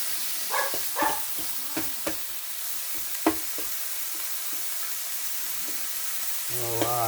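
Fatty steak pieces sizzle in a pan with a constant hiss and a few sharp pops, while a voice speaks faintly and briefly.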